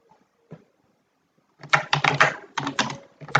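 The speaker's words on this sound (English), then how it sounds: "just type in again" Someone types on a computer keyboard: a lone tap or two, then a quick burst of clattering keystrokes in rapid uneven runs, close and clear in a quiet room.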